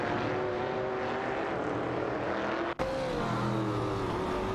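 Porsche 906 and Ford Falcon race cars in an AI racing video game, a steady close engine drone with shifting, rising pitch throughout and a brief dropout near the end; no talking.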